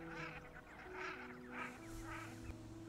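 Several honking greylag goose calls in a loose series of four bursts, fairly close, over a steady low background hum.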